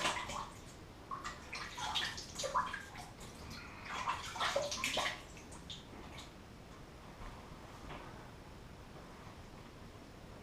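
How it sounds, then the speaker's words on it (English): Cold tap water runs into a basin to rinse off after a straight razor shave, a close splashing gush that swells and ripples for several seconds, then settles into a quieter steady trickle. "get all rinsed with some nice cold water."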